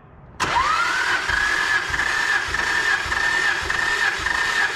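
A Nissan GT-R engine cranks steadily and loudly with its spark plugs removed for a compression test, a continuous whirring drone that starts abruptly and holds its pitch for several seconds.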